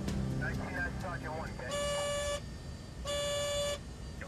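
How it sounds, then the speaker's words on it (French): Aircraft cockpit low fuel pressure alarms sound as two steady electronic tones, each about half a second long and separated by a short gap, following brief speech at the start. "Les alarmes de basse pression concernent maintenant l'ensemble des pompes à carburant."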